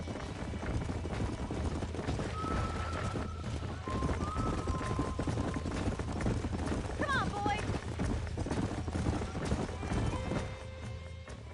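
Hoofbeats of horses trotting in the Western video game Red Dead Redemption, a steady clip-clop running under constant ambient noise, with someone speaking briefly and faint whinny-like tones.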